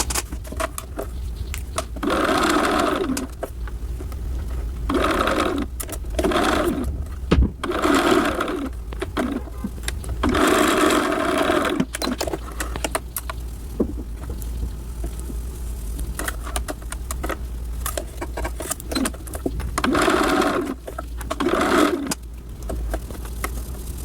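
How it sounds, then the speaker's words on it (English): A sewing machine stitches the side and sleeve seams of an off-shoulder sweater in repeated bursts of steady, close whirring, separated by short pauses and a low constant motor hum. "Now you can go ahead and start sewing at the sides and the sleeves at 1/4 inch"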